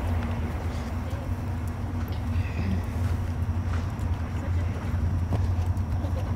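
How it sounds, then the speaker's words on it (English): Hooves of a young event horse clip-clop steadily on the ground during a riding clinic at a farm, a regular close rhythm over low background rumble. "He's gonna be a nice little event horse"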